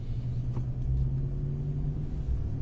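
A truck cruises along a road in the morning, giving a steady low engine rumble and road noise from inside the cab, with no talking.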